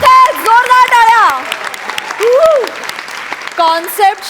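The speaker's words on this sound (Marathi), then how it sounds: "जोरदार टाळ्या" An audience at a Marathi comedy show bursts into applause while voices shout and cheer loudly over the clapping.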